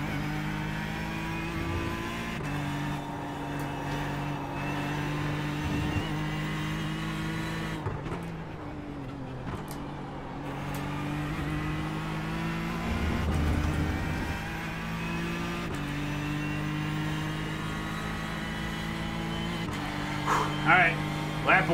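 Ford car engine in a racing video game droning steadily with shifting gear pitch and brief revs, someone talking over it throughout.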